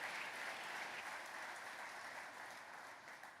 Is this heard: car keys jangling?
no